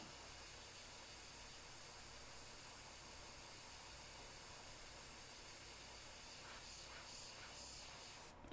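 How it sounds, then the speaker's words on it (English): An airbrush blows a steady, faint hiss of air to dry freshly applied paint on a Harley, continuing unbroken for several seconds before cutting off at the end. "Let me grab the airbrush. I'm gonna just throw some air on this"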